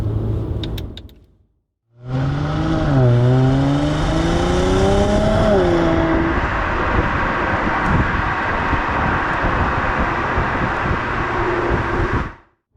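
From inside the cabin, a Mercedes C400 4MATIC with its stock exhaust revs and accelerates after a brief pause, its muted engine note climbing and shifting in pitch over about ten seconds of steady, fairly loud drone, with no talking.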